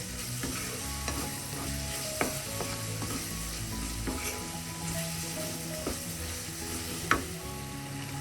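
Brinjal and potato masala is stirred in a hot pan, a steady close sizzle broken by scraping strokes and a few sharp clinks of the spoon against the metal.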